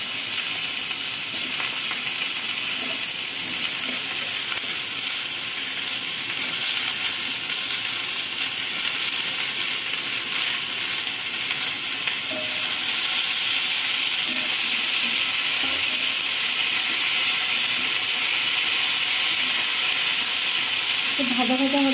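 Small pieces of potato and pumpkin fry in a pan with chopped onion, giving a steady broadband sizzle that holds for the whole stretch, with faint stirring scrapes near the end.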